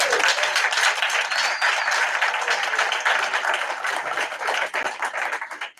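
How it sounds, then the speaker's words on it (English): Sustained, dense applause from an audience at a township municipal council meeting, honoring a councilwoman; steady close clapping that tapers slightly near the end, with no talk over it. "Councilwoman McDuff deserves a round of applause"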